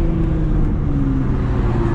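A tuned 730-horsepower Nissan GT-R R35 cruising, a steady, loud, close engine drone with a constant low hum and no voices.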